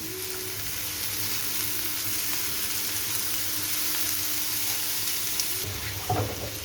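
Sliced sweet pumpkin fries in a pan for a mixed vegetable dish, giving off an even, continuous hiss of sizzling oil, with a brief utensil clatter near the end.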